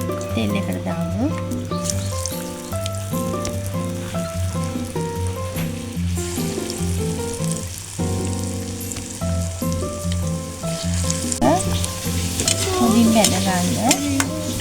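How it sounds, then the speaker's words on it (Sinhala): Kurakkan kawum, finger millet batter balls, frying in hot oil, a steady bubbling sizzle running the whole time beneath louder music. "මේ තවරගත්ත බැටේ එකේ ගුළු ටික තෙල් එකට දාමු."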